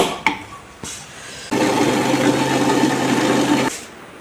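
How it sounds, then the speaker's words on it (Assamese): A kitchen mixer grinder whirs steadily for about two seconds as it blends a banana hair mask with coconut oil, a loud close motor drone framed by a few clicks before and after. "এইখিনি আকৌ এবাৰ মিক্সিত গ্ৰাইণ্ড কৰি ল'ম।"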